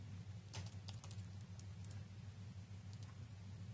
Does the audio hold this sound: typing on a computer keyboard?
yes